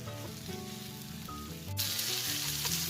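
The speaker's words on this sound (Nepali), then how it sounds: "हाई फ्लेममा चाहिँ नपकाउनु होला है, यो डढ्न पनि सक्छ र टेस्ट एकदम नराम्ररी बिग्रिन्छ। त्यही भएर मिडियम फ्लेममा हामीले यसरी फ्राई" Spiced potatoes frying over a medium flame, a steady close sizzle that grows louder and brighter partway through, with no voices.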